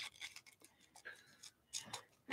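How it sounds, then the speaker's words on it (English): Quiet, close snips of small scissors cutting paper, a series of short crisp clicks coming in irregular bursts. "Now I need my little fussy cut scissors."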